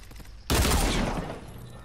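Pistol gunfire in the video game Fortnite, an abrupt loud blast that cuts in after a quiet moment and rings out in a decaying roar.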